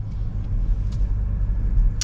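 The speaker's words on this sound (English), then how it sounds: "let us set off in the F-Pace SVR." A 2025 Jaguar F-Pace SVR performance SUV pulls away, its engine a steady low rumble heard from inside the cabin, continuous and fairly loud with faint road noise and no talking.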